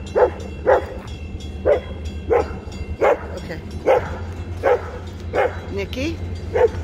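A dog barks repeatedly in a steady rhythm, about a bark every second, close and fairly loud, over a low rumbling engine drone during night railroad switching moves on the NECR line.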